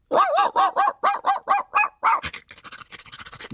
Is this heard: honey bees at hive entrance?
no